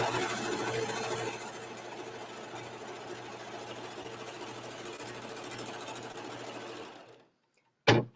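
A serger sews a rolled hem on fabric with a fast, even mechanical whir that runs for about seven seconds, cuts out into silence, then gives one short final burst.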